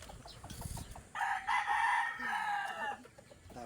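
Chickens cluck softly, then a rooster lets out one loud, drawn-out crow nearby, set against outdoor background noise.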